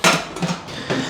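A pot or frying pan is set down in a home kitchen, giving a few quick metallic clanks and clatters that are close and fairly loud, with no talking.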